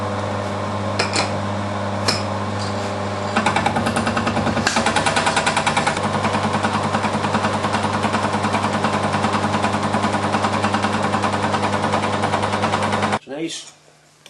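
A milling machine cuts the face of a metal block with a steady, loud mechanical drone and grinding chatter that holds for most of the stretch before abruptly spinning down to near silence.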